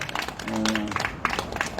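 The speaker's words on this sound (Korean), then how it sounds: "박수 한번 주세요." A crowd at an anti-THAAD candlelight rally in Gimcheon, South Korea, applauds outdoors. The steady clapping is moderately loud, with a brief voice or tone mixed in.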